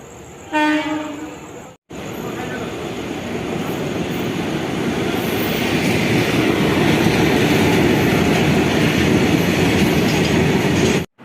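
A train pulls into a station in India, its horn blaring with stacked harmonic tones near the start, then a steady, loud rumble of wheels and carriages rolling past close by until it fades out.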